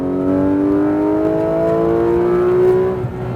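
Porsche GT3 RS engine pulling hard on a race track, a loud steady note climbing smoothly in pitch for about three seconds before easing off near the end, with no talk over it.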